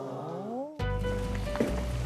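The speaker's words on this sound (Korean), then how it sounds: "지금 보글보글 끓고 있는데" Pork stew with potatoes boiling in a pot, a steady low bubbling and simmering that starts abruptly after a brief tonal sound and continues close and fairly loud with no talking.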